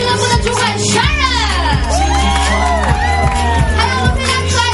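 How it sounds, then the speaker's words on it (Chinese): A cruise ship crew show audience cheers and shouts loudly in a continuous burst, with whoops and raised voices filling the hall. "首先呢，我们掌声来给我们的娱乐部的主管 Sharon"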